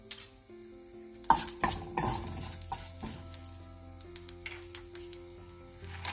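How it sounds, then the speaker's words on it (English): Mustard, cumin, urad dal and methi seeds crackle and fry in a pan with red chilies for a chutney, giving a steady close sizzle broken by sharp scrapes and clinks of a spoon against the metal. "saute them till they fry properly"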